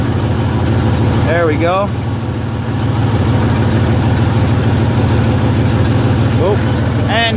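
A car engine idles steadily through a radiator flush, a constant low rumble filling the whole stretch while someone talks briefly over it near the start and end.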